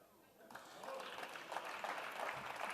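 An audience in a parliament chamber breaks into applause that builds and holds as a steady wash of clapping.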